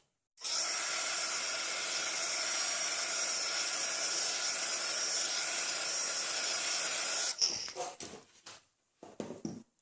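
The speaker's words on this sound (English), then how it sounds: "I'm just going to dry that off with the heat gun" A heat gun drying watercolor paper blows a steady, loud rushing hiss of air for about seven seconds, then cuts off, followed by a few brief clicks and rustles.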